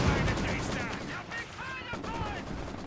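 Machine gun fire in Company of Heroes 2, a World War II real-time strategy game, rattles in steady bursts through a dense battle mix, with a commentator talking over it throughout.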